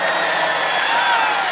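A large political campaign rally crowd cheers and applauds in a steady, dense roar with a faint melodic tone riding above, loud and continuous throughout.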